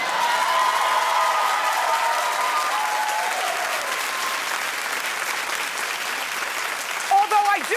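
Studio audience on a daytime talk show claps steadily and loudly throughout, a dense continuous applause that fades slightly toward the end, with a brief voice rising over it at the close.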